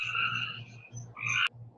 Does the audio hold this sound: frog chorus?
yes